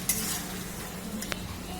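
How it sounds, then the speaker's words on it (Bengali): Turmeric spice mix being stirred into mutton pieces in a pan for mutton kosha, a steady low sizzle with soft scraping strokes and a couple of brief spoon clinks near the end. "এবার আমি একটু ভালো করে নাড়িয়ে মশলাটাকে এটার মধ্যে লাগাবো"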